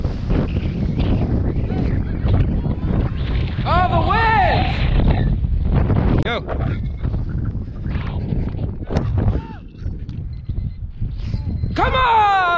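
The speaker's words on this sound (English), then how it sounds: "Oh, the wind." Strong outdoor wind buffets the microphone with a loud, continuous low rumble, while people shout and call out over it throughout.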